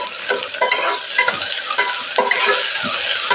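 Ginger garlic paste sizzles with chicken in a pan for biryani, with frequent scraping stirs breaking into a steady, close frying hiss. No one talks.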